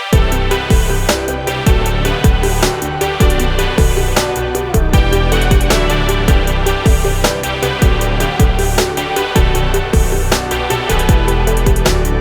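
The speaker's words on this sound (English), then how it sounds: "we're going to take a MIDI melody that sounds like this" A MIDI melody plays back over a loud, driving arrangement with punchy, regularly repeating beats and sustained tones, steady and dense for twelve seconds without any voice.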